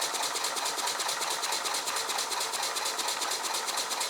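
A finished model steam engine runs on air and steam with its flywheel turning, producing a fast, even mechanical chuffing and clatter that repeats steadily at close range without pause.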